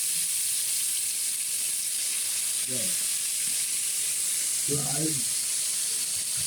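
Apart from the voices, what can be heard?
overnight-marinated chicken in cafreal spice frying in oil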